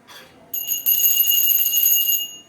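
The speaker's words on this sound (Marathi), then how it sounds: "देवपूजा करताना घंटी वगैरे वाजवली" A hand bell rings during evening puja worship at home, a quick run of bright metallic strikes followed by sustained ringing that carries on steadily, loud and close with no talking.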